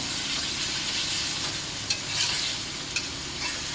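Fish sizzles in a hot pan as ginger paste is stirred through it, a steady close frying hiss with a couple of brief scraping knocks from the spoon.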